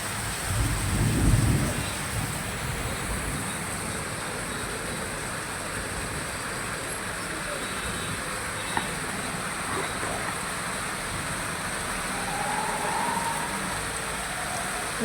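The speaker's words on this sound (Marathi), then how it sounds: "सर्वच भागात असा पाऊस चालू आहे" Steady rain hisses throughout with a low rumble of thunder near the start, the downpour continuing evenly to the end.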